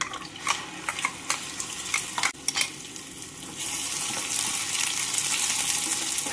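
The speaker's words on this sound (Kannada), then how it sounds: "ಮಾವಿನಕಾಯಿ ಹಾಕಿ ಹುರ್ಕೋಬೇಕು ಇದನ್ನ ನಾವು ಚಲೋದಾಗ" Raw mango going into a hot pan, tagged as stir-frying with sizzle, is being stirred to make puliyogare: a run of scraping spoon clicks and light sizzling up close, then a steady louder frying hiss for the second half, with no talk.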